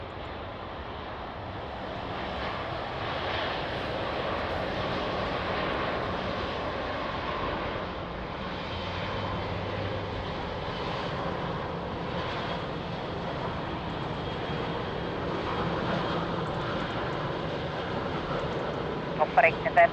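An aircraft taking off from runway 02 at Lisbon Airport, a long sustained engine roar at moderate distance, with radio voices talking over it.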